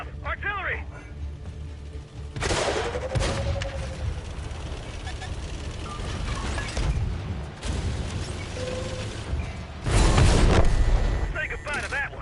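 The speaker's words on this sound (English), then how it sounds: "Heads up, artillery." Booming artillery fire and shell impacts in the World of Tanks video game, several heavy blasts spread across a continuous rumbling battle soundscape, with whistling shell sounds and talk throughout.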